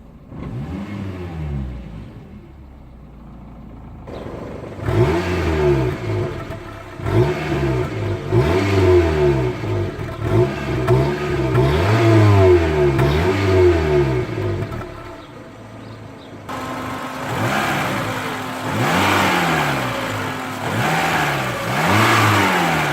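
A 2000 Renault Twingo engine revs several times in bursts, rising and falling from a steady idle, heard close up and alone with no talk.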